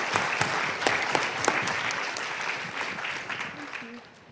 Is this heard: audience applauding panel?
yes